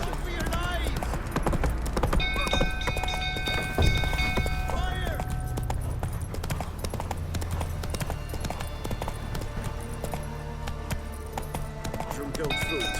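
Geralt's horse Roach galloping in The Witcher 3: Wild Hunt, rapid rhythmic hoofbeats thudding steadily throughout, with game voices and music over the top.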